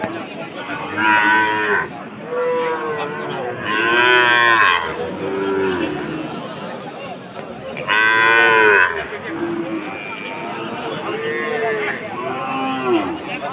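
Cattle moo repeatedly at a village livestock market, long loud lowing calls overlapping one another nearby, with a busy murmur of voices and crowd noise underneath.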